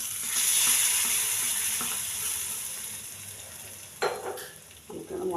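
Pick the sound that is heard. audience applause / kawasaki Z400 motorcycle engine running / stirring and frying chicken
stirring and frying chicken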